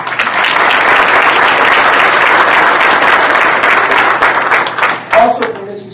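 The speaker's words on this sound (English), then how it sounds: "We applaud you for that, Mrs. C." Sustained applause from a crowd fills the room, loud and steady, then tapers off near the end as a voice starts speaking.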